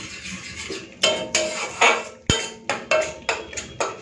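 A spatula scraping and knocking against a metal pan while stirring vegetables for pointed gourd malaikari, making a series of close, loud clinks and scrapes at an uneven rhythm with one sharp metallic knock.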